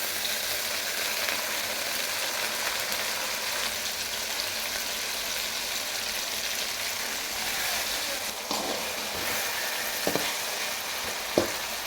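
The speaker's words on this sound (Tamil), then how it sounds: "பார்த்திங்கன்னா தக்காளி நல்லா குழஞ்சிருச்சு. இன்னும் நல்லா வதங்கட்டும்." Tomatoes frying and softening in a pan for a tamarind-style eggplant curry, a dense continuous sizzle held close and steady throughout, with a few faint clicks near the end.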